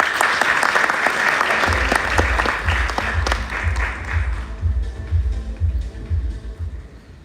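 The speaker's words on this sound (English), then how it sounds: "Ladies and gentlemen, with a big round of applause, please welcome our guest of honor," A big audience at a Road To Safety meeting in New Delhi claps to welcome guest of honor Prasoon Joshi, dense loud applause that gradually thins out as a rhythmic low thumping rises beneath it.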